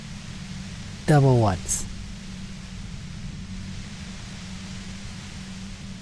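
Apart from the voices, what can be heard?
white noise from the compressor in Disco Elysium video game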